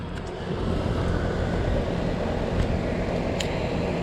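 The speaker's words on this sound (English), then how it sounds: "It's a heat pump." A 2010 Whirlpool 4-ton heat pump with a Copeland scroll compressor runs outdoors, giving a steady, loud broadband whir and low hum that holds without pause.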